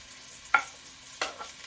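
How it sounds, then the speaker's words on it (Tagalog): Sliced onion goes into a pan for a mung bean and vegetable sauté, giving a brief scrape and a soft sizzle as it is stirred, quiet and close with no speech. "Lagyan ko ng sibuyas"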